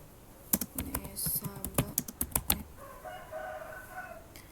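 Quick bursts of keystrokes on a computer keyboard, close and crisp in an uneven run of about a dozen taps, followed by a faint tonal chirping in the background.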